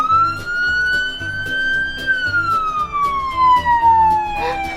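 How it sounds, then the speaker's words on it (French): A toy police car's siren set off by a button press wails loud and close, its pitch rising then gliding down, with a bright repeating pattern underneath. "Ouais! C'est la sirène!"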